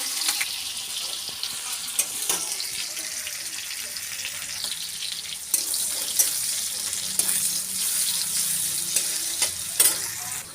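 Fish and chopped onions frying in a pan, a steady close sizzle with scattered clinks and stirring knocks and a faint running-water hiss behind, no one speaking.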